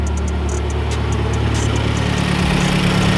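A Mazdaspeed 3 engine, from a wrecked car being rebuilt, idles with a steady low rumble and faint ticking, the tone deepening slightly toward the end.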